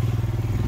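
A motorcycle rolls through a toll booth on the road toward Kasol in India's Parvati Valley, its engine a close, steady low drone with a faint rhythmic pulse throughout the short stretch.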